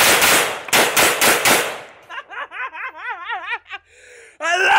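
An airsoft AR-15 replica fires BBs in two quick bursts of sharp, loud cracks up close. Afterwards someone laughs in short, wavering giggles, and a voice breaks in near the end.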